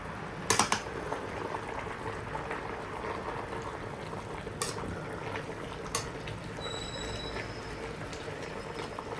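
Potatoes boiling in a pot on a home stove, a steady soft bubbling hiss throughout with a few sharp clinks of utensils against the pot.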